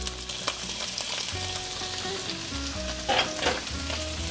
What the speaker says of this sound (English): I have cut 1 small onion julienne style like this, and I add all my onions in here.